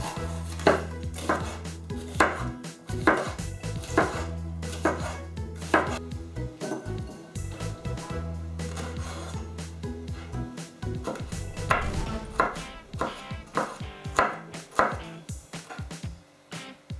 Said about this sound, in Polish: Paprykę pokroję w paseczki, a papryczkę chili i natkę pietruszki posiekam.